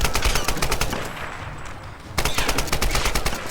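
Loud enemy automatic gunfire in the Tomb Raider video game, rapid bursts of rounds close up, briefly easing off mid-clip before firing resumes, with no talking.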